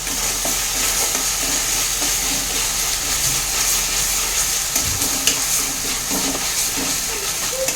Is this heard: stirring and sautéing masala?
yes